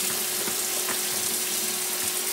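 Kitchen tap water runs steadily into the sink while a coffee pot is rinsed, a continuous close hiss and splash with faint clinks beneath it.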